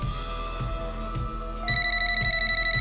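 An unanswered telephone keeps ringing in a comedy sketch, steady electronic pulses that grow louder and sharper partway through, repeating in a fast even rhythm with no voices.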